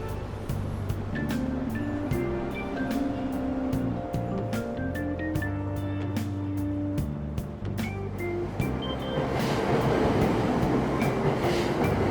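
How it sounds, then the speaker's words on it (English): A subway train runs in Persona 5 Royal, with a melodic chime sequence and station tones over a rumbling carriage that swells into louder rolling clatter near the end. "Train doors are now closing."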